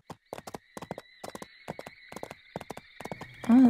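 Clip-clopping horse hooves from the video game Barbie Horse Adventures, a quick regular series of sharp hoof clops over a faint synthetic tone, ending in a loud burst of sound.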